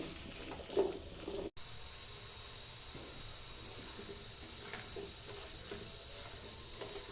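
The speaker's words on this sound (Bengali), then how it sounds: "গ্যাসটাকে মিডিয়াম টু হাই ফ্লেমে রেখে আলুগুলো ভেজে নেব।" Potatoes fry in oil over a medium-high gas flame for a vegetarian Maha Ashtami thali, giving a soft, steady hiss at low volume with a faint bump early on and a brief dropout.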